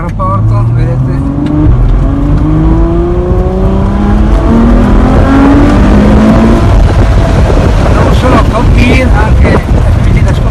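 A supercar accelerating hard on an airport runway track, loud and close, the engine note climbing through several quick gear changes into a roaring high-speed rush.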